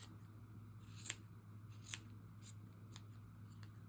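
Scissors trim a knitted slipper made on a bulky knitting machine, with a few quiet, crisp snips spaced irregularly over a faint steady hum and no speech.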